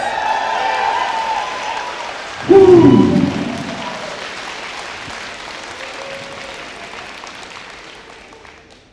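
Keynote audience at a gathering breaks into applause and cheering, a loud burst with a whoop near the start that fades gradually over several seconds.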